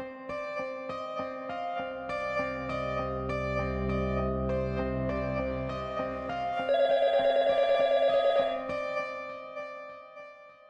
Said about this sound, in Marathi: ए हो, चला आपण फोन करूया.